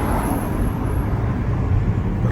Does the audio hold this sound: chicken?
no